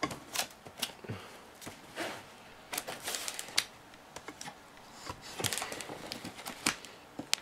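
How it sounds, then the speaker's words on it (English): AR indoor/outdoor wireless speakers come out of their box amid close crinkling cardboard and plastic, irregular tapping, rustling and sharp snaps of packaging being pulled apart, with no talking. "So I'm going to unbox it."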